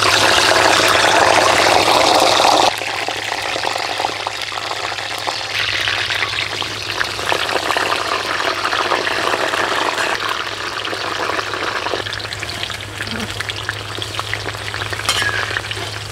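Stuffed brinjals frying in hot oil, with a loud, continuous sizzle that eases slightly after the first few seconds and carries on steadily, with occasional stirring noises and no speech.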